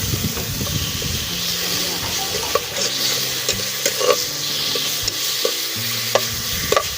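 Tomatoes sautéing in a little oil in a pan while cooking pechay, a steady sizzle and hiss with occasional soft stirring clicks throughout.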